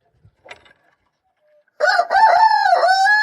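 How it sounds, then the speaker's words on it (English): Backyard chickens being shut in for the night give a few faint clucks, then a rooster lets out a loud, close cock-a-doodle-doo crow. "Night-night, chickens."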